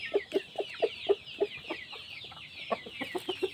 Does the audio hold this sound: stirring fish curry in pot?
no